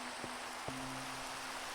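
Steady, soft rain hiss in Minecraft, faint and even throughout. Two brief low thumps and a faint sustained hum sit underneath it.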